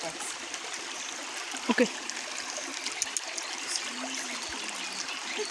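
Mountain stream on the slopes of Mount Moroto flowing steadily in wilderness, a soft continuous trickle and rush with a brief louder splash, a voice speaking once over it.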